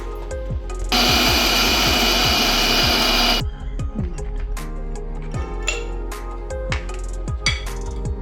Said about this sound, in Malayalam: ഇനി മിക്സിക്കകത്ത് നന്നായിട്ട് അടിച്ചെടുക്കാം